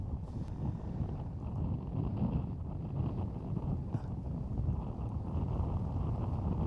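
Steady, blustery wind gusts roar across an open microphone on a disc golf course throughout, with low rumbling buffeting and no clear pauses.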